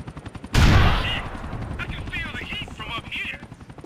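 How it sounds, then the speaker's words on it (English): A helicopter arrives in a Grand Theft Auto game, its rotor chop pulsing steadily after a loud burst of gunfire, with a continuous rhythmic thumping under the game sounds. "There's a chopper turning up."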